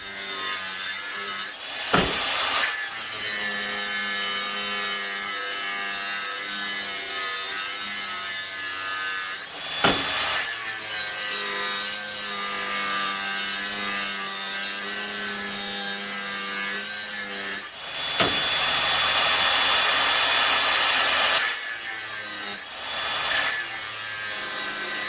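An angle grinder cuts through metal in a workshop, a loud continuous harsh grinding that runs for long stretches, broken by a few brief pauses where the disc is lifted off the workpiece.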